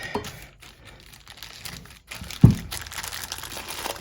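Sporadic crinkling and rustling of plastic, close and moderately loud, with a sharper crunch partway through.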